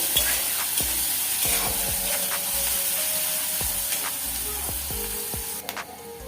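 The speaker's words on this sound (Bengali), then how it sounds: "এখন আমি সবগুলো ভেজে নেব।" Chopped onion, green chilies and garlic cloves sizzle in hot oil in a pan, a continuous bright crackle broken by regular knocks and scrapes of a spatula stirring.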